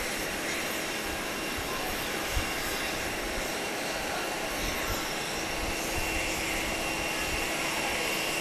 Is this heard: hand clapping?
no